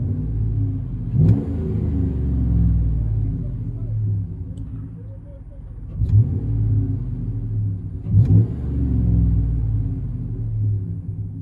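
Low, steady engine rumble of a Chevy Silverado 5.3L with a Flowmaster exhaust heard from inside the cab, with a few brief revs rising over it while someone talks.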